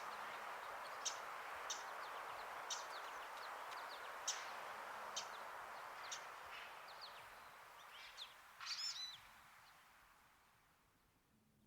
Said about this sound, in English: A Wilson's warbler flits through the skunkbush sumac and the chokecherry, hunting insects and calling sharply